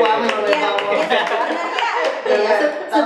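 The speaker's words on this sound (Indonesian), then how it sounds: "Tepuk tangan Ale." People clap hands during a talk show segment about an MC and public speaker, a lively burst of clapping mixed with chatter and light laughter, fairly close and loud throughout.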